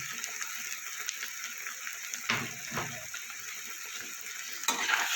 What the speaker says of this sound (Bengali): দিয়ে মশলাটা ভালো করে আমার কষিয়ে নিতে হবে যতক্ষণ না মশলা থেকে তেল ছাড়বে